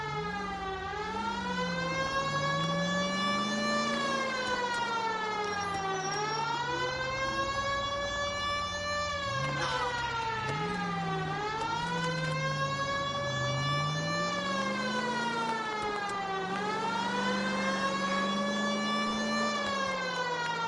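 A vehicle siren in the video game Pig Simulator wails loudly and continuously, sweeping slowly up and down in long repeating cycles with no talk over it.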